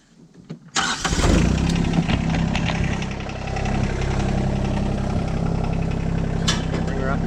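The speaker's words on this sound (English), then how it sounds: "Get my tractor fired up." An engine cranks and catches after a second, then settles into a steady, loud idle nearby.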